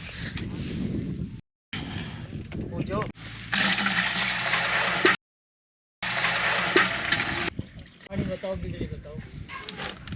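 Water is drawn from a built storage tank in a dry Marwar desert village, heard as splashing and pouring bursts between gaps while people talk nearby.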